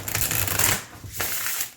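Thick mass-market deck of flexible cardstock being shuffled: a brisk riffle of dense papery flutter, then a second shorter burst of card snaps, close and alone.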